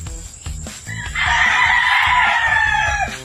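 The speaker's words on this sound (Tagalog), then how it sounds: "may mga tumitilaok doon" A gamecock crows loudly in a long drawn-out call, with other fowl clucking and crowing in the background at a derby chicken farm.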